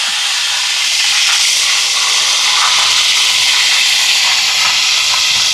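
Loud, continuous hissing and bubbling of a pot at a vigorous boil on a wood-fired stove, steady throughout with no talking.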